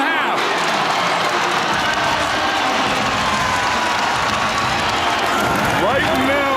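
A college basketball arena crowd during a Providence game, a dense, loud roar of cheering and shouting that holds steady throughout, with a commentator talking over it.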